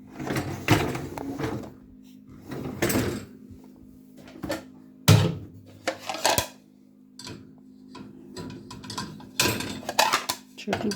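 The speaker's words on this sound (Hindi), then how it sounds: "इस तरह सारी चीज़ें जो भी हैं तो इसमें लगा देंगे, गिलास वगैरह इस साइड पे।" Dishes and glasses being loaded into a Dawlance dishwasher, with irregular clinks, rack slides and clatters, close by, while someone talks in between.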